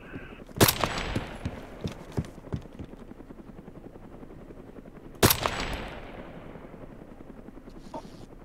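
Gunfire in the video game DayZ Epoch sounds as two loud sharp shots several seconds apart, with a string of lighter rapid pops between them over a steady helicopter-like drone.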